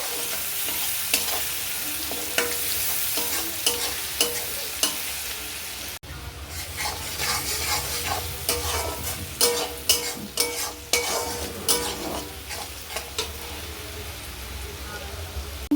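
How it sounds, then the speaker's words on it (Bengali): Chopped onions fry in oil in a kadai while being stirred, producing a constant close sizzle punctuated by regular taps and scrapes of the spatula, briefly cut off partway through. "পেঁয়াজ কুচানোটা আমি একটু লাল করে ভেজে নেবো"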